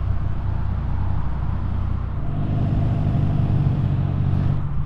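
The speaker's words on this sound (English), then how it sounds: "Cruising down the track in my S2K" Honda S2000 driving around a race track at a JapDays event, its engine a loud, steady drone with a low rumble that shifts slightly in pitch midway.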